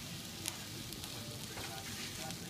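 Steady loud sizzling of minced rat meat stir-frying in a hot iron wok, with occasional scraping stirs, close up and continuous.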